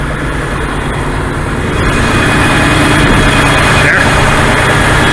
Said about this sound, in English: After I let it idle a while, I brought the RPMs up a little bit.